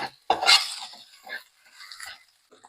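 A spoon stirs tomato rice in a cooking pan, scraping and clinking against the metal in a few short, close strokes with quiet gaps between them.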